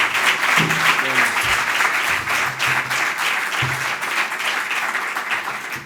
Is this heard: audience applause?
yes